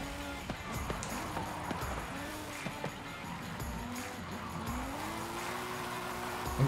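A BMW M3 E46 in Forza Horizon 5 spins its wheels in game, with a faint engine drone and a rising rev near the end, quiet and steady throughout.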